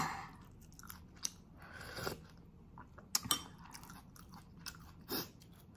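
Someone close to the mic eating pinakbet soup, with soft wet chewing and occasional crunchy bites and utensil clinks at an irregular pace, quiet and without speech.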